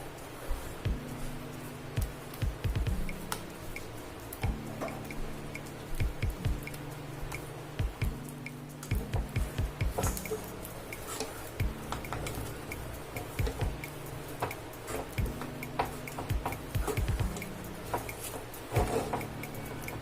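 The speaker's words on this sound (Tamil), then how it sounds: "பால் நம்ம வறுத்து வச்ச ரவையை கொஞ்சம் கொஞ்சமாக கொட்டி கிண்ட ஆரம்பிச்சிருங்க. கைவிடாம கிண்டணும்." Roasted semolina being stirred into milk in a pan, giving soft squishy, wet ticking and scraping sounds in an irregular rhythm, close and steady throughout, with low humming pan or stove noise beneath and no talk.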